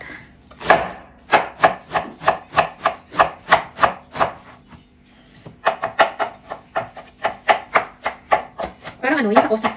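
Chinese cabbage being chopped by hand with a knife on a board, quick, evenly spaced crisp chops in two runs separated by a brief pause, followed by a short burst of voice at the end.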